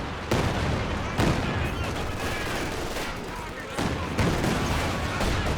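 Heavy sustained gunfire from a machine gun barrage in Company of Heroes 2 goes on without a break, dense rattling bursts mixed with other battle noise, loud and close throughout.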